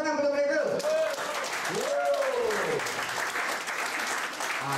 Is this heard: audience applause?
yes